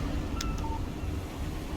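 A short electronic text message alert chimes from a phone in the Alan Wake video game, two quick tones over steady wind-like ambient noise, with no voices.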